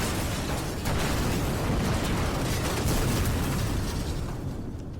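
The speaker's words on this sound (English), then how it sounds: "The explosion comes in 3 rising, cacophonous bursts that bend the grass and shake the trees on either side of the estuary." A loud, roaring explosion sound effect in an audio drama, set by an estuary, rumbling in dense sustained waves before tapering off.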